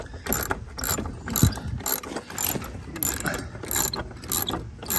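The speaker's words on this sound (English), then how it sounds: "everybody needs to have a set of ratchets because they come in super handy" A hand ratchet wrench backs long screws out of a wooden fence door, giving rapid, close clicking bursts in an uneven rhythm with brief pauses between strokes.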